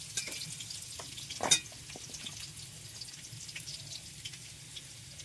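Chopped onion, garlic paste and salt frying in a pan give off a faint, steady sizzle, with one brief clatter early on.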